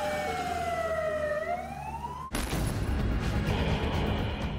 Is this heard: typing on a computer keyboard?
no